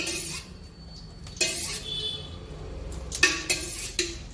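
Pan set down on a home kitchen stove and oil poured in, giving a few close metallic clinks and knocks over a quiet background.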